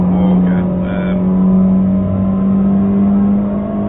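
A TCR touring race car engine at Mid-Ohio holds a loud steady droning note, close and constant, as commentators talk over it.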